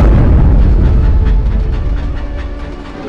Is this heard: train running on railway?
yes